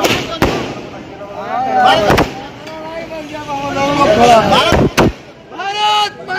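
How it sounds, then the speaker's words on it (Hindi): Firecrackers set off by traders at Chilma Bazaar, Basti, celebrating the Chandrayaan-3 landing: several sharp loud bangs burst out amid a noisy street crowd, with voices talking and shouting throughout. "पटाखे को छोड़े हैं"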